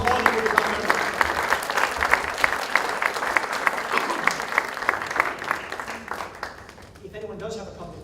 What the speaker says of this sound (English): a round of applause for our good friend